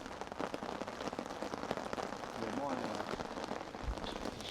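Rain falls on a camp tarp during wet-weather bushcraft camping, a dense continuous patter of drops on fabric with a few louder taps and faint voices in the background.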